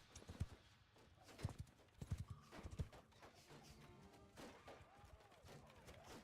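Hooves of cavalry horses thud and clop in a medieval battle game, irregular bursts of strikes up close with a faint neigh and scattered battle clatter in the background, fairly quiet overall.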